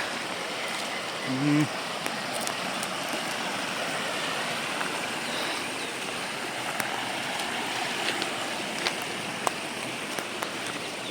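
Steady broadband rush of stream water flowing at a dammed hydropower intake on a river, continuous and fairly close, with a brief low voice near the start.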